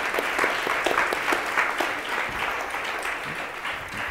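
A crowd of attendees at a Vancouver business networking event applauds a co-organizer with sustained, even clapping from many hands that holds steady for several seconds before easing slightly.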